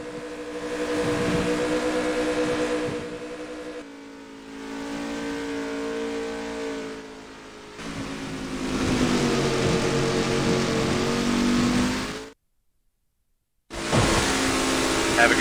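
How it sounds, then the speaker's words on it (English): Race car engines start and rev in NASCAR Rivals on the Sonoma road course, with loud, sustained engine roars in several bursts, a brief dead-silent gap near the end, and talk running alongside. "Let's head trackside and get the engines fired for today's race."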